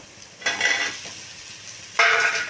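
Potatoes tossed into a pan with softened onions sizzle quietly in oil, punctuated by two distinct stirring bursts, each a brief rush of scraping and louder frying before settling back down.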